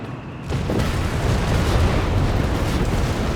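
Heavy assault tank destroyed by anti-tank fire from Hellcats in Company of Heroes 3: a sudden loud blast after a half-second lull, rolling into a sustained roaring rumble of explosion and battle noise.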